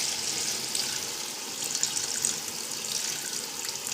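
Tamarind soaking water pours into a biryani masala as a steady, close liquid splash and trickle, with no voices.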